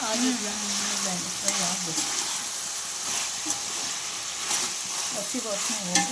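Chopped capsicum sizzles and fries in a hot pan with oil tempering while being stirred, a close, steady crackling hiss broken by scraping stirs, with brief faint speech in the background.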